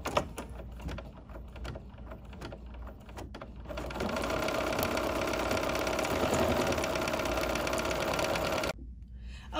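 Embroidery sewing machine stitching a design for a vintage boardwalk pattern, a steady fast mechanical chatter that starts lighter and then runs loud and continuous before cutting off near the end.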